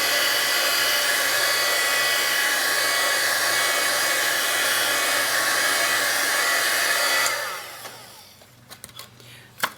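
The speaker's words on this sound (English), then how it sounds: "Turn my heat gun on for just a sec" A heat gun blows hot air over wet ink on a handmade Christmas card, a loud, steady whirring roar that holds for about seven seconds, then winds down and stops, leaving a few faint clicks.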